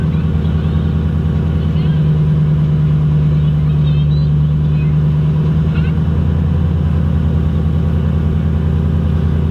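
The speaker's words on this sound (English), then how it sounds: "Right now, I'm just trying to get out of here. Backing this trailer up." A straight-piped diesel Ford Super Duty truck idles with a loud, steady low rumble while backing up a trailer, the deep exhaust drone holding throughout, with a person speaking over it.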